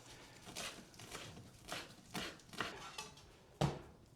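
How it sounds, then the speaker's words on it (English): A knife chopping fresh parsley on a board, a steady series of soft, fairly quiet cuts about every half second, ending on one sharper hit. "I'll chop this parsley and I'll sprinkle it on top"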